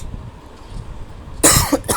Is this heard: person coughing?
yes